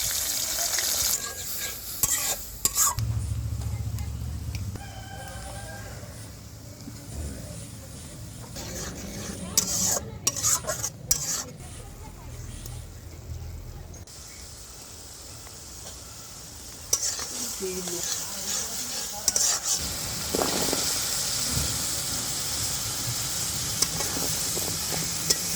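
Tilapia fish and taro pieces stirred in a frying pan, continuous loud sizzling with repeated scraping strokes and clatter of the spatula close by, fluctuating through the stretch with occasional sharper bursts.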